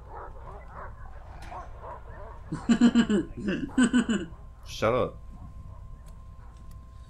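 Dog barking in the horror video game Silent Hill Downpour, a run of several loud close barks and yelps in the middle with a later single bark, over quiet game ambience while a player speaks briefly.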